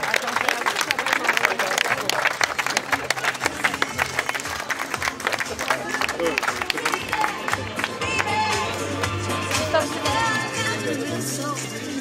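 Wedding guests applaud a speech at a reception, sustained clapping and cheering filling the room from start to finish, with crowd chatter mixed in and a low musical hum underneath.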